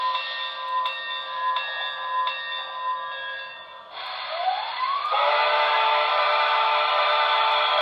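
Sound system of a Broadway Limited Imports brass hybrid Santa Fe Blue Goose model locomotive rings its bell in evenly spaced repeated strokes over a steady hiss, then a rising whistle-like tone and louder steady hiss take over.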